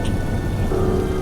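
Heavy rain hisses steadily while a low, rumbling roll of thunder fills the background, loud and continuous across the short stretch.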